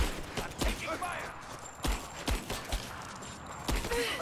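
Gunfire in the video game Rise of the Tomb Raider, a run of sharp, punchy shots at irregular intervals over a busy combat soundscape, with voices shouting in the background.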